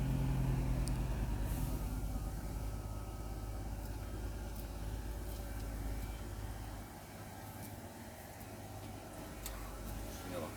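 A Ford F-MAX truck engine labours on a narrow village road, a low steady droning rumble heard faintly from inside the cab, with occasional light ticking and clicks.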